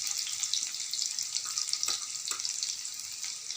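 Potatoes sauté in a pan with a bright, steady hiss of frying, close up and moderately quiet, broken by a few soft stirring knocks.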